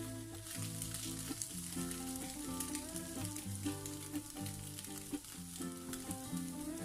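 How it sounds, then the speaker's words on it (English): Broccoli frying in a pan for chicken chaofan, a steady loud sizzle with occasional stirring scrapes running throughout, with background music playing underneath and no talking. "And then I'm going to put in the broccoli. Fry it for about 3 minutes."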